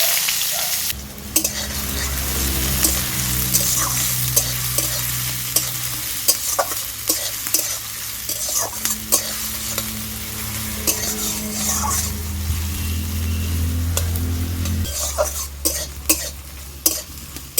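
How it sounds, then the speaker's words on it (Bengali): Chopped onion stirred and fried in a pan with mustard seeds and curry leaves, a constant sizzle broken by frequent spatula scrapes and clinks against the pan. "পেঁয়াজ কুচিটাকে হালকা নেড়ে চেড়ে নিচ্ছি।"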